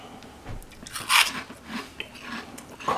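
Taco Bell cinnamon twists being bitten and chewed up close, giving several crisp, crackly crunches in a short burst with a louder snap midway and another near the end.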